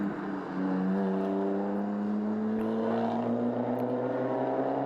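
BMW 325i race car of Cooper Racing in Belcar touring car competition, a steady loud engine drone with rising harmonic pitch as it accelerates along the circuit, held throughout without speech.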